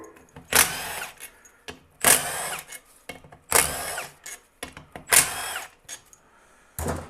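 An electric power tool whirs in five short, loud bursts with quiet pauses between, working on the transmission pump of a 1979 Chevy Corvette's 350 transmission. Small clicks and clanks fall in the gaps.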